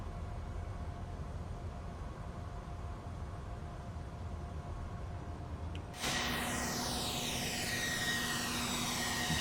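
An Embraer E190 in a flight simulator game starts taxiing: a low cabin hum with faint tones, then power is added and the jet engines swell into a louder, rising whine that holds steady, with no speech.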